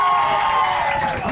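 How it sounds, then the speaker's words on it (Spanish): An audience cheers and claps on a yacht, a loud crowd roar with shouting voices and clapping that holds steady across a brief moment. "¡El aplauso!"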